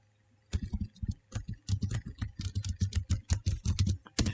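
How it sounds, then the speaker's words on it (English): Fast, uneven keystrokes on a computer keyboard as a password is typed, a close run of crisp clicks lasting several seconds with no talk over it. "just type the password"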